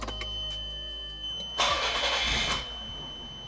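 A Toyota MA10ET car engine cranks and catches with a roar after a timing belt replacement, then settles into a steady idle, heard up close.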